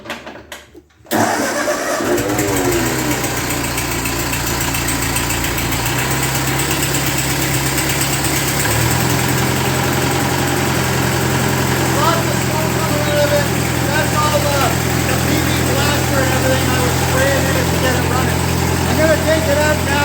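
A 1948 Ford 8N tractor engine cranks and catches after a brief silence, then settles into a steady, loud, close idle with a low rumble that deepens slightly partway through and runs continuously.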